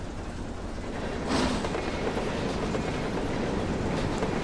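A PKP Pm-2 steam locomotive of the Polish State Railways runs in the Trainz 12 train simulator game, giving a steady, loud rolling rumble with rail clatter throughout and no talking.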